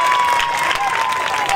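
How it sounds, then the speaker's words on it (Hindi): Applause from the crowd at the inauguration of a flower show in Fatah Park, steady dense clapping with some cheering, filling the whole short moment at close range. "बहुत सारी तालियां होनी चाहिए।"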